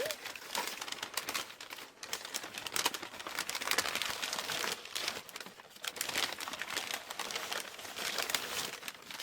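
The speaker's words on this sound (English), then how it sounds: "Some nice little wrapping paper." Wrapping paper crumpled and crinkled while unboxing hooks, a continuous close, dense rustling that runs throughout with no speech.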